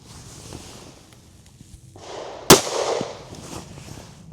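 A single sharp, loud shot from a Smith & Wesson Bodyguard 2.0 pistol firing .380 ACP XRG ammunition into a gel block, with a brief echoing decay after it and quiet outdoor background before the shot.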